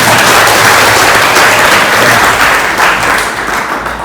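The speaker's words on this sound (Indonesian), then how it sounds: "Tepuk tangan dulu semuanya." Students at a vocational high school in Bangli, Bali, applaud together during a police visit, a loud, close, continuous roar of clapping that fades slightly toward the end.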